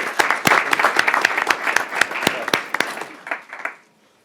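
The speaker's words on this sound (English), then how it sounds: "So round of applause and congratulations." An audience at a school board of education meeting applauds, a burst of dense clapping that carries steadily for about three seconds and then thins out and fades.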